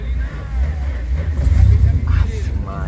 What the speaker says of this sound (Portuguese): Liga esse trem pra nós escutar o barulho dele aí